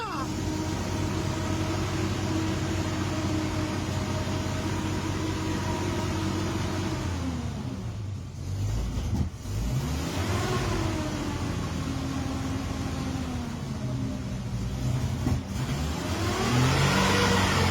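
An old Humber Pig FV1611 armoured vehicle engine, its first start in seven years, runs loud and close with a rough rumble, dips, then revs up in rising surges; someone speaks briefly.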